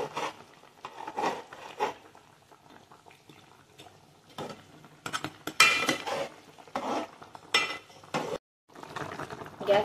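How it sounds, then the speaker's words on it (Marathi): Fish curry being gently stirred in a pot over a wood-fired stove, with soft intermittent scraping and clinks of utensil on metal and a low bubbling simmer, moderately close and without talk. "थोडंसं सावकाश हलक्या हाताने हलवून घेते"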